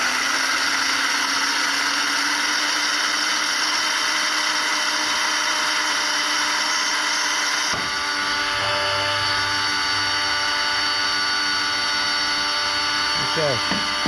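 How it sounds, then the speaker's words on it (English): An electric coffee grinder set to medium grind whirs steadily and loudly for several seconds, then its motor pitch shifts as the grind finishes. It is set up as part of a ute canopy camping rig. "It's on medium grind, and I guess I just press the button."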